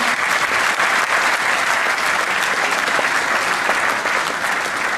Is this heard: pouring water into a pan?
no